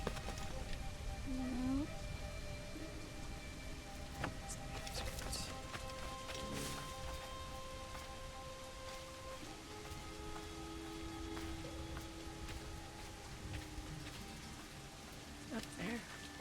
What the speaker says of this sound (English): Rain's beautiful.